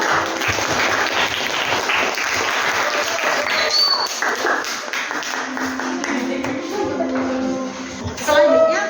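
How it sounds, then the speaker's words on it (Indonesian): Classroom applause for a student group, a burst of many hands clapping close by for several seconds, fading toward the end as voices and chatter come in. "Beri aplaus untuk kelompok"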